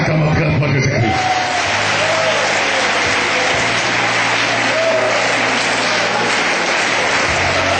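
A church congregation applauds and cheers a preacher in a steady, dense wash of clapping that runs the whole time, with voices calling out over it and a sung tone near the start.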